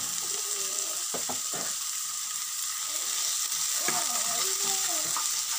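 Onion and thin-sliced tomato sautéing in a pan: a constant bright sizzle with a few sharp clatters of a utensil and faint rattling sounds, close and steady, no talking.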